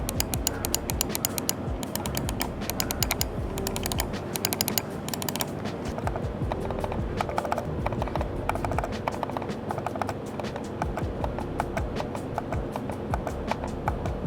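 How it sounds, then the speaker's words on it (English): Rapid clicking of Logitech MX Master 3S and MX Mechanical Mini computer mice, many crisp clicks in quick succession, fairly quiet, continuing steadily for several seconds with no talking. "So we'll try clicking on these 2 mouses, and then we'll see the sound reduction."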